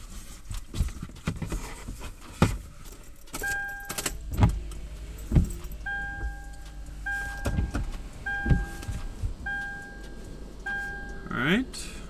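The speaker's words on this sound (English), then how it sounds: "I want to just turn the car on and see what happens" A Toyota 4Runner is switched on with a newly installed large head unit, giving a series of short electronic chimes and clicks amid thumps and handling noise inside the cabin.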